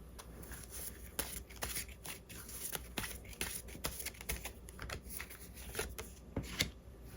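Tarot cards being shuffled by hand, with a steady run of soft, close riffling and flicking card sounds that continue without talk.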